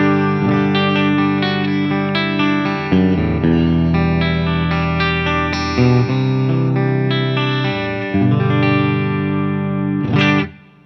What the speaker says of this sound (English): I am playing my Whitfield Telecaster through a Bravado amp, which I make, and my clean tone sounds like this.